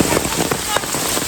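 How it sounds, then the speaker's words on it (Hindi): Heavy rain pours during a trek in Tamhini Ghat, a loud dense hiss of drops drumming on nearby surfaces, with a voice faintly under the downpour. "अभी भयानक बारिश चालू हुई है, अभी ज़्यादा चल रही है बारिश।"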